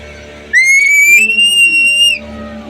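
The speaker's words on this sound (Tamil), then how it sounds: "அடுத்த விசில் யாருது?" A person gives one loud, sustained whistle, sliding up sharply and then holding a steady high pitch for about a second and a half before cutting off, close and alone.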